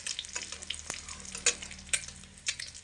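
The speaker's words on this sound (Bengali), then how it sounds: "এবার তেল থেকে ছেঁকে তুলে নেব" Fried eggs are lifted out of hot oil, with a quiet, broken sizzle and a few sharp clinks and scrapes from the utensil as they are drained; no one talks.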